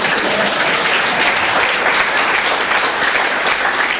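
A church congregation claps steadily and loudly together in a dense, sustained wash of applause that runs the whole length without a break.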